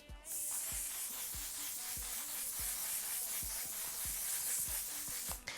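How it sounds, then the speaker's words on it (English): One Size Beauty Until Dawn mattifying waterproof setting spray misting out in one long continuous hiss, close and clear, with a faint rhythmic tapping beneath and no voices. "First, I'm going to use the One Size Beauty Until Dawn Mattifying Waterproof Setting Spray."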